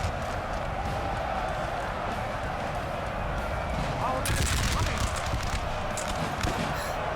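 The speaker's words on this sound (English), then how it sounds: "So the firing squad." A firing squad's musket volley in the Napoleon: Total War battle game, a dense burst of crackling shots rising over a constant battle-noise bed, with continuous game ambience throughout.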